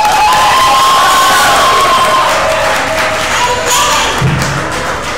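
Audience at an international conference applauds and cheers for three contestants, a loud, steady wash of clapping and crowd noise lasting several seconds, with a couple of dull thumps.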